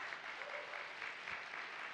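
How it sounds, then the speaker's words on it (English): An awards ceremony audience gives a round of applause for the winners, a steady, fairly quiet wash of many hands clapping together, with no talk over it. "Let's give a big round of applause to all of our winners."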